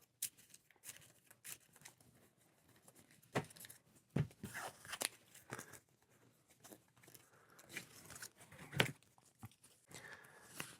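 A deck of cards for a gothic deck-building board game is shuffled by hand, making scattered riffling, flicking and rustling bursts that stand out against near silence during a solo tabletop session.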